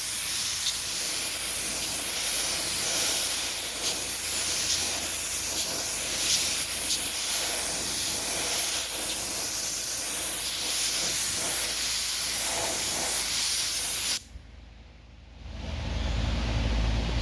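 Spray gun laying thick paint onto vehicle doors during prep for base coat on a 2021 Pathfinder, a steady close hiss running unbroken for about fourteen seconds, then cutting off abruptly.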